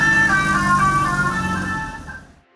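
A telolet bus-style musical horn fitted to an odong-odong kiddie ride car plays a loud, close, multi-tone melodic honk that holds steady, then fades out over about two seconds.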